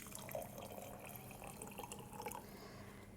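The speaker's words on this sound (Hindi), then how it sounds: "इसके ऊपर मैं पानी डालूँगी" Water is poured over a spoonful of chia seeds in a glass, a faint continuous trickle and splash heard alone and close.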